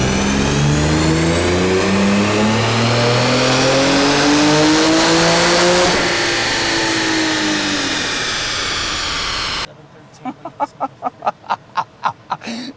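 A Nissan 370Z with a twin-turbo stock-block engine making about 700 horsepower screams up through the revs on a dyno, one long loud climbing pull that then drops away, followed by a few sharp, rhythmic lighter revs.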